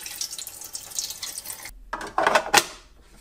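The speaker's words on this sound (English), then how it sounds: "Fill water to the max fill line." Water is poured into the reservoir of a Keurig K Duo coffee maker in a kitchen, a soft trickle with a brief pause, followed by a louder splashing gush near the end and then quiet.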